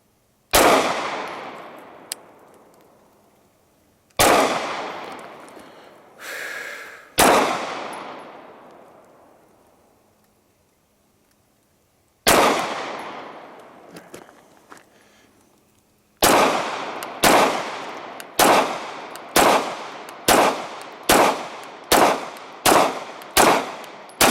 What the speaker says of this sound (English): So my first 3 shots that are outside of the head was me shooting with my right hand